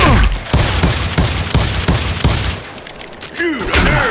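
Rapid Old West revolver and rifle gunfire in the shooter game Call of Juarez Gunslinger: a loud run of sharp cracks at roughly half-second intervals, then scattered shots and a brief voice near the end.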